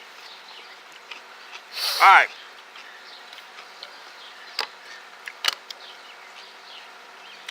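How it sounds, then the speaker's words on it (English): A fly buzzes briefly near the face during an outdoor spicy-snack tasting, a short close whine that swells and fades, with a few ticks and clicks afterward and a voice speaking briefly. "And a fly buzzing around my nose."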